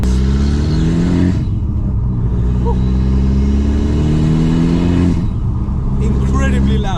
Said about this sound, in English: Incredibly loud. You can hear the induction.